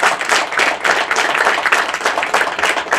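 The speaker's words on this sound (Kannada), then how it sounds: "ಈ ನಿರ್ಮಾಪಕರಿಗೆ ಮೊದಲನೇದಾಗಿ ಒಂದು ದೊಡ್ಡ ಚಪ್ಪಾಳೆ." An audience at a film press show for Bayalu Seeme claps for the producers, a dense, loud, steady round of applause lasting throughout with no pause.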